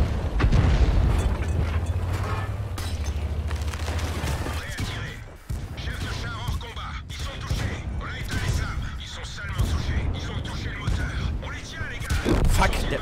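Heavy booming tank cannon shots and explosions from a World of Tanks battle, loud and rumbling, with mechanical clanks between blasts and a voice talking over the action.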